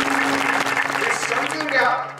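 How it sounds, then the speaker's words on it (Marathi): A kirtan audience keeps up a dense, steady round of applause while a voice carries on over it. "टाळ्या वाजून मोकळे होऊ नका"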